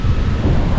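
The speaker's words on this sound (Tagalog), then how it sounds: "Lakas ng hangin mga kahaw" Loud, steady wind roaring and buffeting close to the microphone, a dense rumbling rush with no pauses.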